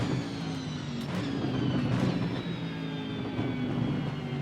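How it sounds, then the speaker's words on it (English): Mercedes AMG race car in the Assetto Corsa Evo racing game, its engine holding a steady, loud, tonal drone with slight pitch shifts as it runs, heard alone without voices. "Love the sound of the Mercedes AMG"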